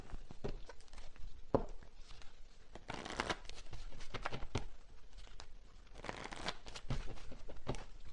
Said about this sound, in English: Okay, let me get one final card here.